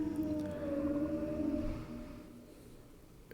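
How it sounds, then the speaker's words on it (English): A long, mournful, whale-like creature call from the survival game The Isle, attributed to the Kamara, swells with layered tones and then fades away to leave an echoey quiet. "I really hope they keep Kamara's general whale-ish sound, because it sounds so great."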